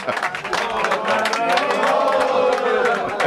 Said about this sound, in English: Capacity crowd. Oh, come on then. Big cheer.